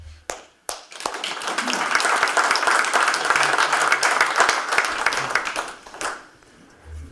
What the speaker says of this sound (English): I was going to tell you to hold those applause.